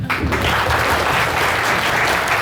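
Applause from an audience at the close of a Korean talk, dense and steady clapping filling the whole stretch at close range with no voices.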